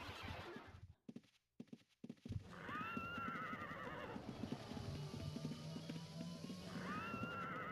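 A horse mount in the Ultima Online video game whinnies twice, bright neighs rising over steady hoofbeats, after a brief burst of thumps and quiet at the start.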